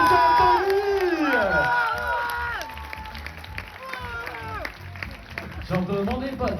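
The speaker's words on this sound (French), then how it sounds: "un tonnerre d'applaudissements pour votre responsable d'animation, Tony" A holiday-resort evening show audience in Argelès cheers and claps for the entertainment host, with loud whoops and shouting voices, including children, sweeping over a continuous bed of applause.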